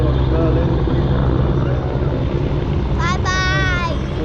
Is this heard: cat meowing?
no